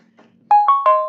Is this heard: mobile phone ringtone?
yes